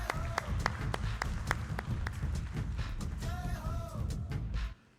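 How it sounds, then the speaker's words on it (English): Scattered, distinct claps ring out from an audience at an ophthalmology conference award ceremony, a loose pattering applause with a voice briefly heard, stopping abruptly at the end. "Big round of applause for all the work he does."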